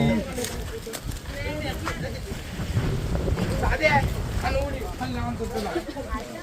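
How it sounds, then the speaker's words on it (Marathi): Wind gusting over the microphone at a lookout by a waterfall, a rough, continuous rumbling buffet under people talking. "फार छान हवा सुटली"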